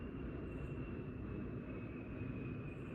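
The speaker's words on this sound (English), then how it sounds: "Do y'all hear them planes flying over?" Planes flying overhead, a faint, steady distant rumble that holds evenly throughout, with no talk over it.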